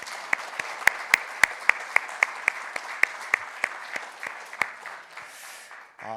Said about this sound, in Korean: 우리 한번 감사의 박수 드리시겠습니다